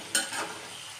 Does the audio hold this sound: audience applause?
no